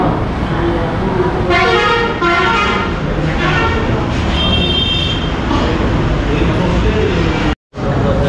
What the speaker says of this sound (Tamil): ஹாரன் சவுண்டு கிழியுது இந்த இடத்துல